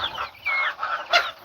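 Chickens on a farm cluck softly nearby in a short run of quick, uneven clucks with no talking over them.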